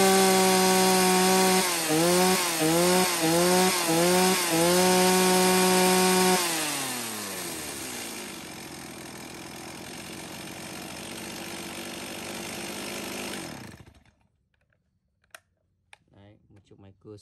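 A 240-class chainsaw with a chain brake is revved up close, loud and alone, its whine rising and falling in repeated surges for several seconds, then settling into a long idle before shutting off, followed by faint clicks.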